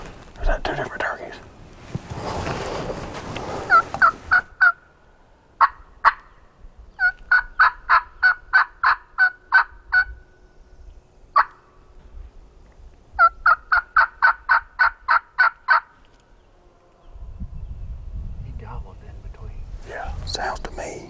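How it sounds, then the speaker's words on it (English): Wild turkeys gobble during a spring public-land hunt in Georgia, with several rapid rattling bursts at a moderate distance separated by pauses, and hushed whispering between the calls. "Is that two different turkeys?"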